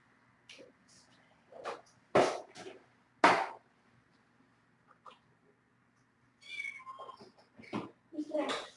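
A kitten gives several short, high meows in bursts, close by, mixed with people talking quietly in a small room.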